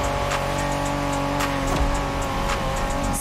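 A 1990s Honda NSX driven in The Crew Motorfest, its engine droning steadily at high revs with a whining hum and brief tire noise, loud and close throughout.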